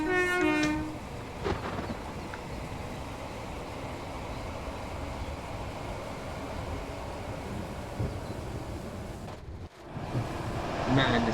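Lumo Class 803 train running on the East Coast Main Line in Train Sim World 4. A brief tonal blast opens a long, steady rumble of wheels and traction, continuous and close, with a short break near the end.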